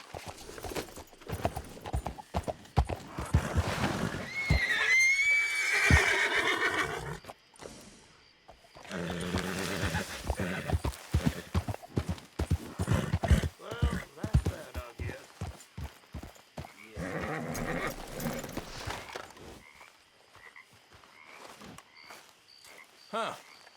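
Horse hooves clip-clopping as a rider sets off in Red Dead Redemption 2, the steady hoofbeats rising and fading over roughly twenty seconds with brief pauses, a snort or whinny near the start and game voices talking over parts of it.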